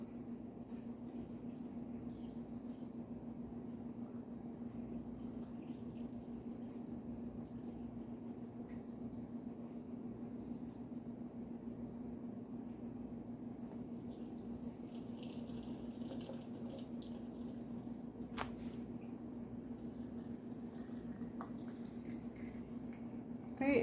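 Water running steadily from a tap into a container of apples to make apple cider vinegar, a low continuous pouring hiss with a few faint clinks near the end, heard alone at modest level.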